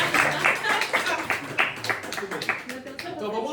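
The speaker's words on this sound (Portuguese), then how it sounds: "Não dá pra bater palmas pro irmão?" Students in a class clap for a classmate, scattered uneven hand claps at close range mixed with voices talking over them, loud and lively.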